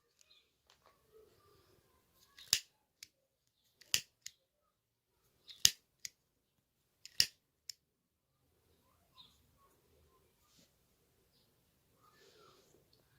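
Sharp scissor snips cutting purple yarn for a crochet motif, four distinct crisp clips spaced about one and a half seconds apart, close and quiet, with faint handling rustle between and no speech.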